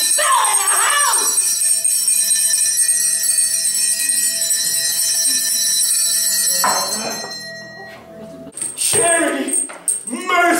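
A bell rings out loudly in the house, clear metallic tones that keep ringing and slowly die away, with bright strikes returning near the end under a voice talking.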